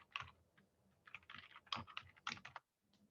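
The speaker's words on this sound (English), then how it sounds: "up here in the box, I'm going to type in YouTube symbols." Quiet, close keystrokes on a computer keyboard, tapped in quick clustered bursts with short pauses between, no voices.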